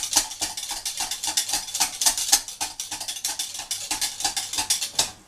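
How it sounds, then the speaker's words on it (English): Whisk beating a melted body scrub mixture in a bowl, rapid rhythmic metallic clicking and scraping strokes, close and steady throughout. "all I do is I use the whisk and whisk up what's left in there"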